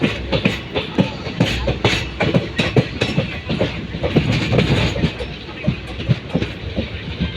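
A train rumbles steadily along a forest track between Palakkad and Kozhikode, rhythmic clickety-clack of wheels over rail joints, loud and close, continuous throughout.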